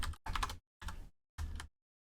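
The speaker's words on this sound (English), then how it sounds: "In case you wonder what I'm doing, I'm just typing away here." Bursts of typing on a computer keyboard while building a browser extension, three or four dense clusters of rapid key clicks separated by short pauses, close and fairly quiet.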